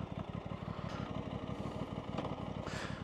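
An Aprilia RS660 parallel-twin engine running close and loud, a continuous throbbing pulse with a gritty, beefy rasp and brief rises in revs, no voices over it.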